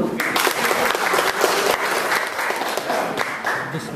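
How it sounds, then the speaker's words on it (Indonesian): Loud, dense applause from a seated audience at a teachers' coordinator induction ceremony, sustained clapping at steady strength with a hint of crowd murmur underneath. "Tepuk tangan dong."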